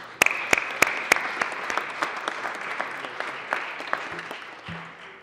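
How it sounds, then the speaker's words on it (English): Scattered applause in the Colorado Senate chamber, opening with a few sharp, loud claps and settling into lighter, uneven clapping at moderate distance, with brief low sounds near the end. "let's give them all a round of applause"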